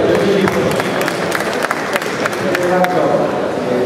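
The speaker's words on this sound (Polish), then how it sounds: "proszę o wielkie brawa" Crowd applause at the opening ceremony of the Rybomania 2014 fishing fair: sustained, dense clapping from a large audience, loud and continuous throughout.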